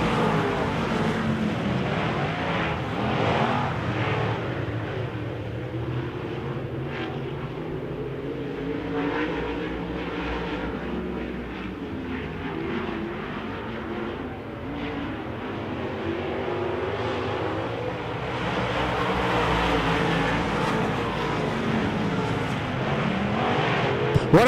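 Wissota modified race cars roar around a dirt track at a feature race, a steady dense engine drone with rising and falling revs as cars pass, continuous and fairly loud throughout.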